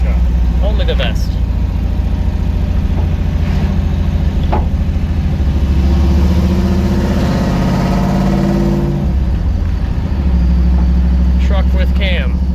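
An LS-swapped 1989 Chevy S10 Blazer with a cam idles with a loud, choppy rumble up close, rising briefly in a rev near the middle, while people talk over it.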